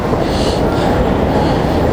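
A holiday-decorated Yozh-type metro train running on a subway line, heard as a loud, steady rolling rumble and rail roar that continues without a break.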